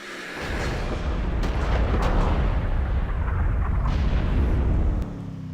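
A loud, roaring explosion in a car driving video game, a thick rumbling blast that sustains for several seconds before cutting off abruptly.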